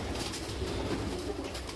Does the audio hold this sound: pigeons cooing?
yes